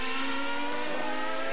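Larrousse Ford Formula 1 car at the 1994 Pacific Grand Prix warm-up, a sustained high-revving engine whine heard loud and close for a moment as it passes.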